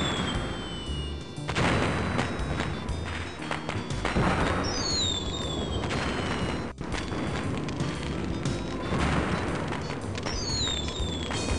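Several fireworks burst in a video game called Normality, with booming thuds and whistling rockets rising and falling across the whole stretch, loud and close, separated by short gaps.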